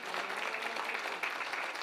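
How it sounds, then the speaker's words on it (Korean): Applause from a church congregation during a Korean Sunday morning worship service, a steady wash of many hands clapping together, even and sustained from start to finish. "박수 한번 하셔야 돼요."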